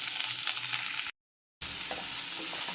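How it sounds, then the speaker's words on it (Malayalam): Onions sizzle steadily as they fry in coconut oil in a pan, a dense close crackle with faint stirring, broken by a short gap of silence before the frying resumes. "സവാള ചേർത്ത് കൊടുക്കാം."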